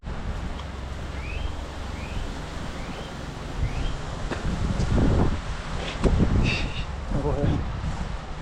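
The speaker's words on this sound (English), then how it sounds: "this wind is just too crazy" Strong wind roars steadily outdoors at a house being soft washed, with gusty rumble throughout and a few faint bird chirps.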